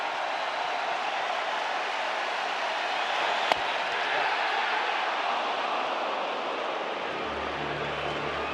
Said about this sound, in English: This Wrigley Field crowd is dialed in too.